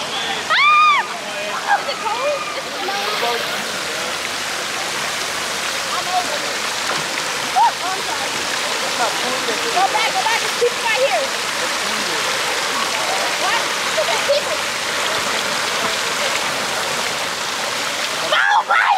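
A waterfall splashes into a swimming pool, making a loud, continuous rushing roar close by that runs the whole time, while people talk and call out over it.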